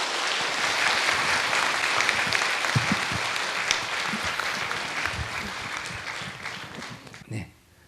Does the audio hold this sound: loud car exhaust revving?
no